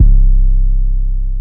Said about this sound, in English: the 2 most popular ones I would recommend are the Spins 808, that sounds like this